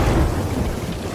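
Loud, close thunder rumble from a lightning strike during a storm at sea in Sea of Thieves, a heavy low roar mixed with rain and no voices.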